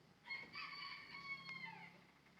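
A rooster crows once, faint and somewhat distant, a rising then falling call lasting under two seconds over quiet outdoor background.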